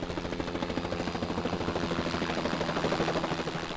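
Helicopter lifting cranberry harvest loads onto a lorry over a field, its rotor giving a steady rhythmic throb with a continuous engine drone, moderately distant and alone.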